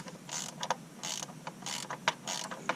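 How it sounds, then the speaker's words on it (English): A hand tool ratchets and creaks in short, loud, close bursts with brief pauses while the oil pan comes off a Chevrolet Silverado with an LML Duramax diesel. "taking the oil pan off."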